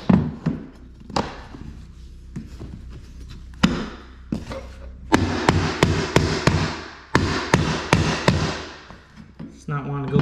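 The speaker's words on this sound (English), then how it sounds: "Need a rubber mallet or any sort of hammer." Repeated heavy thuds and knocks of a rubber mallet striking tongue and groove flooring boards, irregular blows, some in quick bursts, close up with faint background noise.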